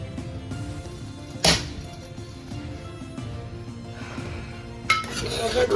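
A home pressure cooker of cooked whole red lentils is opened, with a couple of sharp metallic clanks of the lid against low kitchen rumble, faint and close.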